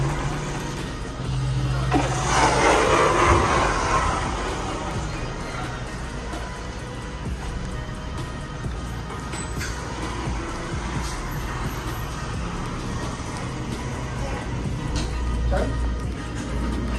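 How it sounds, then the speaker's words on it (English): Traffic rolls past a Mercedes dealership, a steady broadband road rumble of vehicles passing nearby with a louder swell early on, under continuous outdoor background noise. "I'm gonna record the cars."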